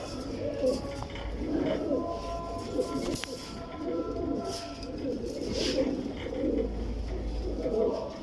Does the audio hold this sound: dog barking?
no